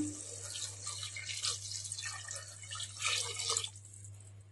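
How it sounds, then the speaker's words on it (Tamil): Five cups of water pour into a pot over two cups of rice for prawn biryani, a close, continuous splashing and gurgling stream with uneven surges, over a low steady kitchen hum. "5 கப் தண்ணி ஊற்றிக்கலாம்."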